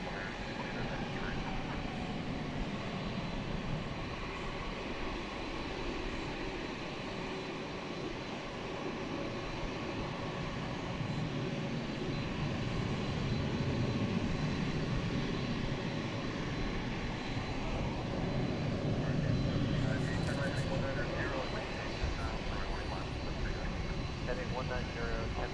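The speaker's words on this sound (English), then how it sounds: "And there is the Dreamliner. Flight 192 is going to Istanbul. 7879 Dreamliner." A Turkish Airlines Boeing 787-9 Dreamliner heads out at night from DFW Airport bound for Istanbul, a long rumbling jet roar that builds toward a louder peak in the latter half before easing.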